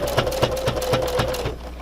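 A sewing machine stitches fabric along a seam near the edge of a mask with a filter pocket, giving a quick, even run of mechanical clacks over a steady motor hum before stopping abruptly near the end.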